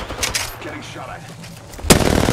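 Gunfire in the video game Apex Legends, a few scattered shots early, then a dense loud burst of rapid automatic fire near the end, with a player's voice talking in between.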